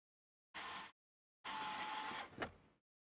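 A Fantech electric screwdriver drives screws on a Casadio Unimog LDO kit build, making two short motor whirs close by, the second longer and dropping in pitch as it stops.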